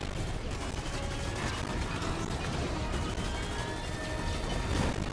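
Missiles and gunfire fill a Fortnite Collision event match as a dense, continuous roar of explosions and shots, loud and unbroken throughout.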